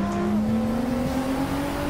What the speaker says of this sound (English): Listen to this RB26, man, it sounds crazy